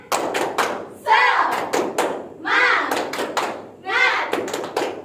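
A primary school class performs a rhythmic clapping chant during an arts and culture lesson: bursts of children's hand claps with thumping beats, alternating with short pauses in a steady pattern, close and lively.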